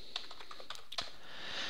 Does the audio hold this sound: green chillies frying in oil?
no